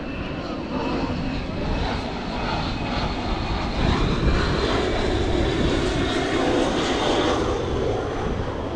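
An airplane engine drones steadily overhead, a loud sustained roar that swells slightly at its peak and holds throughout.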